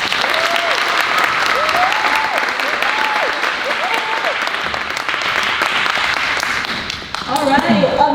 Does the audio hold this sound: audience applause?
yes